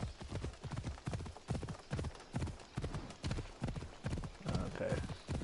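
Horse hooves clip-clop in a steady trotting rhythm in Assassin's Creed Odyssey, with regular close thuds throughout and a brief whinny-like tone near the end, fairly quiet.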